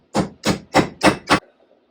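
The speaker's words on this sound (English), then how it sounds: "Get the old rivet out." Five evenly spaced sharp taps ring out close by as an old rivet is knocked out of a moon roof runner from a 1991 Lotus Esprit, followed by a brief quiet.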